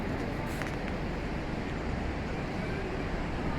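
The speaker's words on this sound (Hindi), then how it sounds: "और ये हुई आपकी गंगा नदी तैयार, बहुत ही विशाल।" The Ganges flows at the Devprayag confluence of the Bhagirathi and Alaknanda, a constant broad rush of water with wind buffeting the microphone, steady and without voices.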